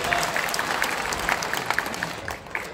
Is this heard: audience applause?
yes